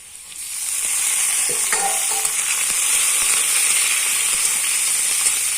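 Potatoes, bay leaf and panch phoron spices frying in hot oil in a pan, a steady loud sizzle with brief clinks of stirring, no voices.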